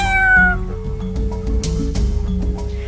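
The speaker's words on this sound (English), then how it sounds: "A cat meows." A cat gives one loud, close meow with a falling pitch at the start, followed by quieter rustling and faint background sounds.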